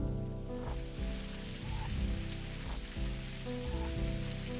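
Steady rain falls outside in the game Necrobarista, a dense continuous patter of drops on a surface, with a low droning hum underneath and brief soft rumbles, no voices.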